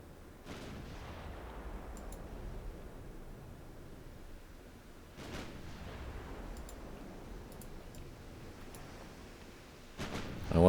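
Heavy cruiser and battleship naval guns boom in Ultimate Admiral Dreadnoughts, three deep salvos spaced several seconds apart, each rolling into a long rumbling decay.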